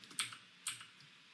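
Two quick, light clicks spaced about half a second apart, close and quiet, like a computer mouse double click, with nothing else but faint room hiss.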